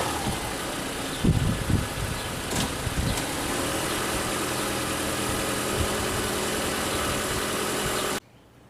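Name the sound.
car being driven up onto a platform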